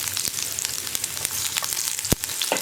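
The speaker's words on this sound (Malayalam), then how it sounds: "ഇതിലേക്ക് നമ്മൾ കട്ട് ചെയ്ത് വെച്ചിരിക്കുന്ന ഉള്ളി ചേർക്കാം." Sliced onion rings frying in hot oil with mustard seeds, a steady close sizzle with crackles and pops and one sharp spike near the end, no talking.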